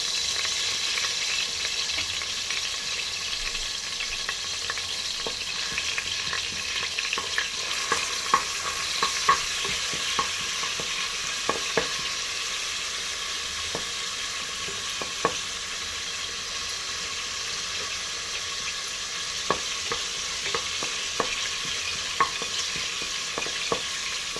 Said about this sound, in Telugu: ఇప్పుడైతే ఆయిల్ కాగింది. షాజీరా వేసుకుందాం.